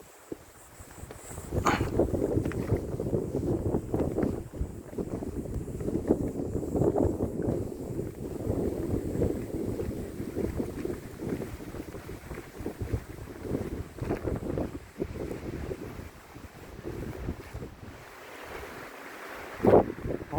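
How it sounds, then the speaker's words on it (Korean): Strong, steady wind buffets the microphone on a mountain hiking trail near a reed field, a loud continuous low roar with gusty swells throughout and no talking. "바람이 너무 너무 세게 붑니다"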